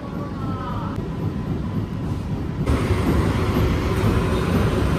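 An AC EMU local train on the Sealdah-Ranaghat line pulls into Naihati station, heard from inside as a constant low rumble of wheels and motors that swells louder partway through.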